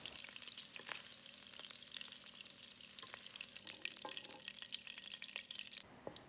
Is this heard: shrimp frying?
yes